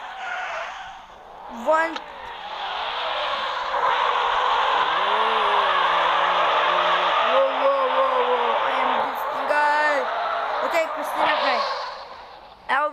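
Tires squeal and skid in a long sustained drift in a car driving simulator game, loud and steady, with someone talking over it and a few brief voice bursts.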